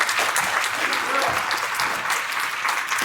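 A crowd at a community convening in Ventura County gives sustained, dense applause with a faint murmur of voices mixed in underneath.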